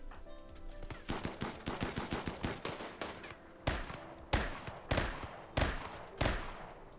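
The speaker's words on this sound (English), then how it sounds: "a few shots with Shinji." Video game gunfire in RimWorld crackles in rapid bursts, dense clusters of shots followed by a handful of louder, spaced single reports, sharp and close with no voices.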